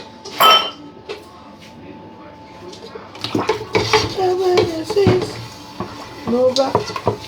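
Cooked rice is moved from one pot to another, with metal spoon scrapes and pot clanks that start sparse and grow into irregular clattering. A faint voice can be heard in the background.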